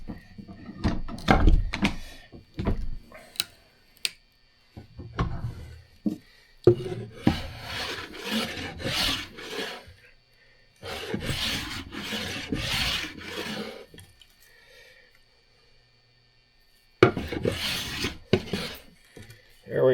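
A hand plane shaves a piece of wood in several short bursts of rasping strokes, each a few seconds long, with quiet pauses between passes and a few knocks near the start.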